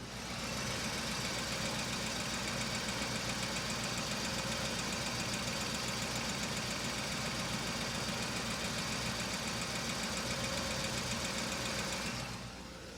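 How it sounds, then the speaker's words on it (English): A 1979 Mercedes-Benz 450SL V8 engine idles steadily and close up with the hood open, its slightly tappety valve clatter running as a continuous even rhythm until it cuts off at the end, with no talking. "as these engines age, they can get a little bit tappety. You can start to get uneven noises from each side of the"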